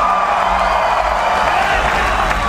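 A concert crowd at a live punk show applauding and cheering, a dense continuous wash of clapping and shouts, loud and sustained.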